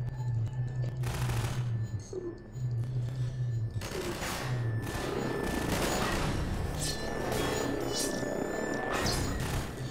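Gunfire in the video game Half-Life 2, rapid bursts of shots crackling in clusters over a busy background of effects, with a voice briefly talking and rumbling tones underneath.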